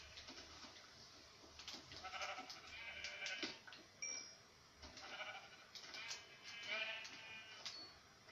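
Sheep in the video game Minecraft bleat faintly a few times under a player's talking, against a quiet in-game background.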